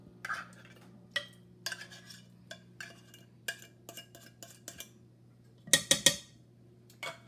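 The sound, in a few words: adding tuna fish to cooking pasta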